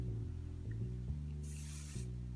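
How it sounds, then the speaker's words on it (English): Hairspray hisses from a can aimed at the roots of fine hair during an edgy undercut styling, a soft steady spray lasting about half a second over a low background hum. "spray that at the root"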